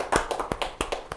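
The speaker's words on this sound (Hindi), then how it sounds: "एक जोरदार से तालियां हो जाएंगे।" A few sharp, close claps in quick irregular succession from an audience at an event, brief and loud with no voices.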